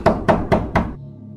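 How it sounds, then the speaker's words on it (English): Four sharp knocks on a hotel room door, evenly spaced and close, with silence after the last one. "a knock at the door"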